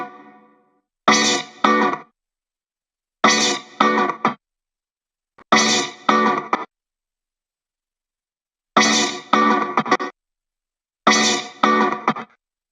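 Short musical phrases pass through the Oril River reverb plugin, with five separate bursts each followed by silence, every burst carrying a different early-reflection character that gives a roomy, echoing color.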